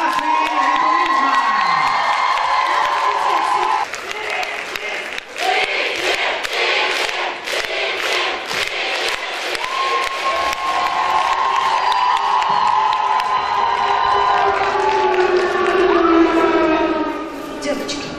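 A university student performance audience cheers and shouts loudly for the faculty of history, communication and tourism, a sustained crowd roar with siren-like whistles and screams rising and falling, and an announcer speaking over it.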